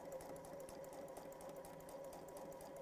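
A sewing machine runs continuously at an even pace while stitching a folded pouch, a quiet, steady whirring hum with no talk.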